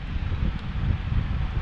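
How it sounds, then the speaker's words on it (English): Steady wind from a thunderstorm gust front in Florida buffets a microphone outdoors, a continuous low rumbling roar with slight surges and no pauses. "That's a gust front."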